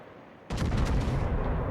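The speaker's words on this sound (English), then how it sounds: "Militia fires his guns." The warship Derflinger fires its guns in World of Warships: a sudden, heavy booming salvo erupts after a quiet moment and rolls on as a dense, sustained roar.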